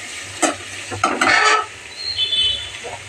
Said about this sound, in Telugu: కట్ చేసుకున్న మామిడికాయ ముక్కను దాంట్లో వేసేసేయండి. కొంచెం బాగా వేపించుకోండి.